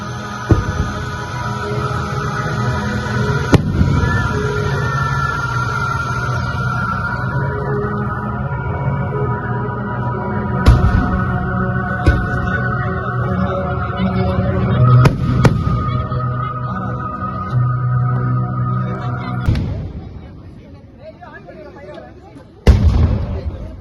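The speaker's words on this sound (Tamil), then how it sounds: "மேல அப்படியே உடஞ்சிருச்சுடா, வெடிச்சிருச்சுடா." Fireworks bursting at an Easter celebration outside St. Anthony's church, a handful of loud, sharp bangs spaced several seconds apart over a constant murmur of crowd noise and voices.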